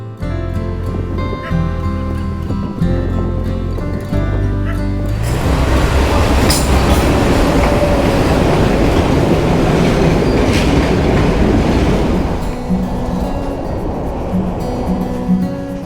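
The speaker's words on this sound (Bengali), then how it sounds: "আমরা আঙ্গুলানা স্টেশন থেকে ফিরতি ট্রেন ধরছি।" A train runs from Angulana station in Sri Lanka, a loud close rumble of wheels and carriages that swells into a broad roaring clatter partway through and holds steady.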